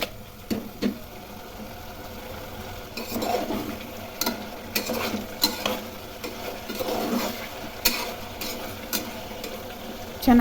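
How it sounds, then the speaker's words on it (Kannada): Chicken pieces stirred and fried in a pan for a chicken gojju, a soft background sizzle broken by repeated scraping and clacking strokes of a spatula against the pan, fairly quiet and close. "ಮಿಕ್ಸ್ ಮಾಡಿಕೊಂಡು ಫ್ರೈ ಮಾಡ್ಕೊಳ್ಳಿ"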